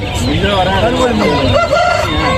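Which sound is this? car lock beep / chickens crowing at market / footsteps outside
chickens crowing at market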